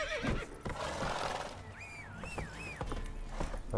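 Roach, the horse in the video game Witcher 3, lets out a long wavering whinny over soft clip-clopping hooves and a low background rumble, fairly quiet and unaccompanied by speech.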